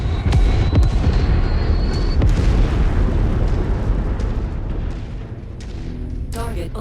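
A destroyed mech blows apart in MechWarrior 5, a loud booming explosion with crackling bursts that rumbles on for several seconds and slowly fades.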